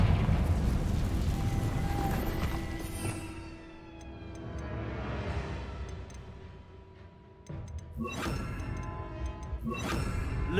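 Repeated blasting-spell explosions from the Confringo charm in the Hogwarts Legacy video game, loud rumbling bursts with a quieter lull midway, then sharp crashing blasts returning near the end.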